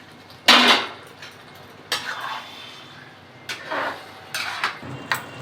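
A spoon scrapes and clanks against a cooking pot while chicken masala is stirred, a handful of separate metallic strokes at irregular intervals, moderately loud, with no talk.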